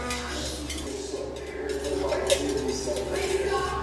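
A utensil mixes ingredients in a bowl, making soft irregular clinks and scrapes against the sides, moderately close and fairly quiet throughout.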